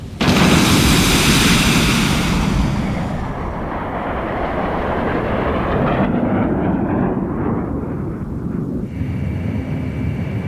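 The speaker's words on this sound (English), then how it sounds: "Booster ignition complete. Launch in 5, 4, 3, 2, 1, fire!" A rocket booster in the jet combat game Ace Combat 6 ignites with a massive, roaring blast that rumbles steadily for several seconds, broad and loud, slowly shifting as it climbs away.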